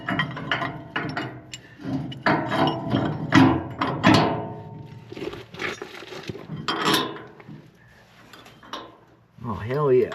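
Metal clinks, ratcheting and clattering come from fitting a round bolt and washer into a broken trailer leaf spring, irregular and close-up, with someone talking throughout.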